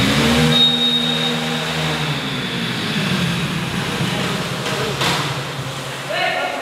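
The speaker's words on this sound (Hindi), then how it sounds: "चलिए बाइक को स्टार्ट करते हैं, चौथे गियर में स्पीड चेक करेंगे" A Hero Splendor 100cc motorcycle engine revs hard while accelerating in fourth gear, its loud, steady drone shifting in pitch as speed builds, with a slight rise near the end.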